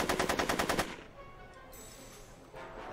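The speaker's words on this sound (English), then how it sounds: "Are you shooting at me?" Rapid burst of automatic gunfire in the Back to the Future video game, about eight quick evenly spaced shots in under a second, followed by quiet background sound.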